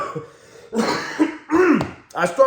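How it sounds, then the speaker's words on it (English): Several harsh, close coughs and throat-clearing bursts from one person, coming in uneven fits with short pauses between. "I still have a cough"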